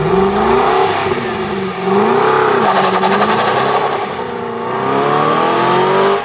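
Aston Martin DB10, built on a V8 Vantage S with its 430 horsepower V8, driving around a test track in Surrey, engine loud and close as it revs and shifts pitch up and down through gear changes throughout.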